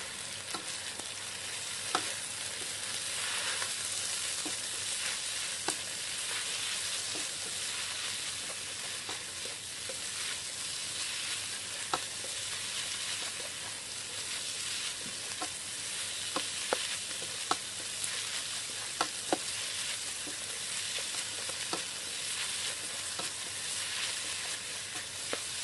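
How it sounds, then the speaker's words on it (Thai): Pork stomach with chili stir-fries in a hot pan, a continuous close sizzle and crackle with occasional scrapes and taps of stirring, no talking. "ใส่กระเพาะหมูลงไปค่ะจากนั้นก็ผัดต่อค่ะ"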